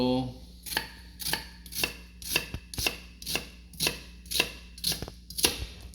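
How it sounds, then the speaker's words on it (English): A knife dices an onion on a cutting board in a steady rhythm of about ten crisp, evenly spaced chops, close and clear, with no talking. "onion's definitely going to be diced a lot smaller than the tomatoes"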